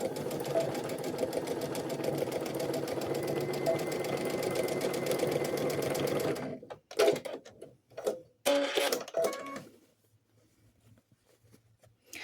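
A sewing machine stitches back and forth over elastic on a doll skirt, a close, rapid mechanical whirr for about six seconds, then several shorter stitching bursts before it stops.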